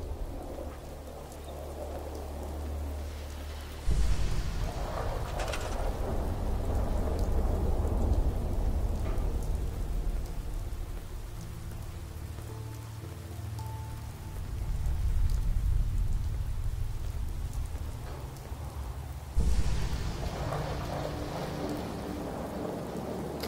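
Steady rain with rolling thunder during a thunderstorm in the video game Fallout 4, loud and continuous, with heavier rumbling swells near the start, middle and end.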